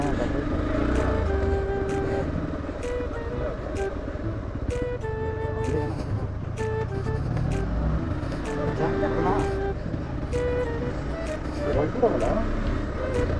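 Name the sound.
motorcycle approaching on an off-road trail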